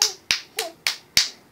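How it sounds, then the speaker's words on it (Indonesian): A baby claps its hands, four sharp claps spaced about a third of a second apart, close and fairly loud with no talking. "Ada tepuk tangan."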